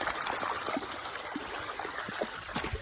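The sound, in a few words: flowing water in park stream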